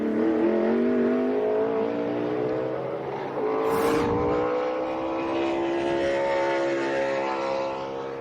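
Engines roar as race cars launch and accelerate hard in qualifying for the 2022 Beef. It's What's for Dinner 300, pitch rising steadily, loud and sustained with a brief whooshing pass in the middle.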